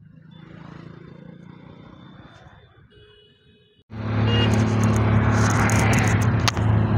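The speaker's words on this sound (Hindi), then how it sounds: "ये रोड रोलर काम कर रहा है" A road roller working on Delhi–Dehradun Expressway construction, with traffic shut on one side. A quieter stretch of background noise gives way to a loud, steady engine rumble that runs to the end.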